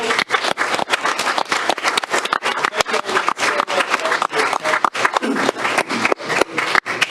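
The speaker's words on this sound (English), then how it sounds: "if y'all could give them a big hand of applause" Audience at a county board of commissioners meeting applauding scholarship recipients, loud close hand claps in an uneven, sharp rhythm.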